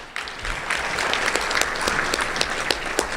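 Applause from an audience at a Louisiana governor's public address on higher-education funding, a steady moderate clatter of many hands with distinct individual claps standing out, continuing evenly throughout.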